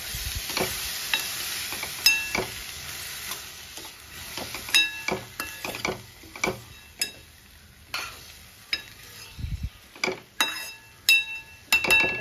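A spoon scrapes and stirs through a sizzling vegetable mix with sprouted horse gram in a pan, with irregular clinks and scrapes over steady frying hiss; no talking.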